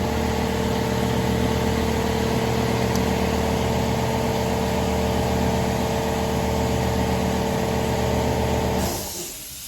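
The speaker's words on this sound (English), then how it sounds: "Compressor, I forgot the compressor." An air compressor runs in a workshop with a 1947 lathe, a loud steady mechanical drone with a low hum that continues for about nine seconds and then shuts off.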